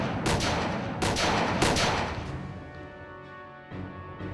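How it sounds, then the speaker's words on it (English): A German 88mm gun fires in a series of heavy booming blasts, several shots in quick succession, each followed by a rumbling decay, loud and close. "the 10-man gun crew would then let the 88 rip"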